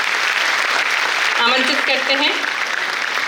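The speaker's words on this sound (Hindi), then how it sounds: "आपकी जोरदार तालियों के बीच" Sustained crowd applause fills a hall at the national Lata Mangeshkar award ceremony, a steady wash of clapping while an announcer speaks over it briefly.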